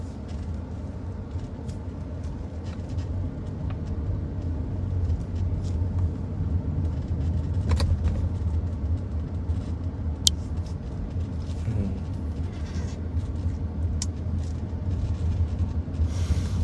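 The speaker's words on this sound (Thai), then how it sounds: "รถกระบะสามารถไปได้อยู่" A pickup truck drives through floodwater in a Thai village, making a steady, close engine rumble with a constant wash of water under it. No one speaks, and a couple of faint knocks sound partway through.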